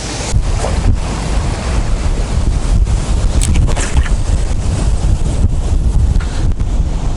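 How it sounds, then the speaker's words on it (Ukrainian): Strong wind buffets the microphone continuously on the bank of the Dnipro river in Kyiv, a loud roaring rumble with gusty thumps throughout, no voices. "Чуєте, да як дує тут сильно."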